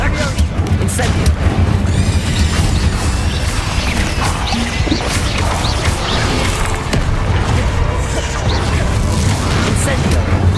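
Spell effects from the Hogwarts Legacy video game, with fire spells cast in rapid succession during combat, giving loud dense crashes, booms and whooshes that run continuously with no pauses.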